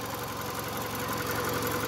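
A Toyota Avensis T25 with a 2.4-litre naturally aspirated petrol D4 VVTi engine, 163 horsepower, runs steadily at idle nearby, a continuous even hum with a regular low pulse and no talk.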